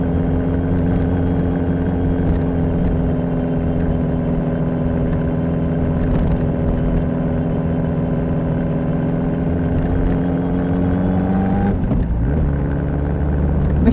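Car climbing an asphalt mountain road through forest in Czechia in third gear, a loud steady engine drone with strained, sustained harmonics that shift near the end, heard from inside the cabin without talk.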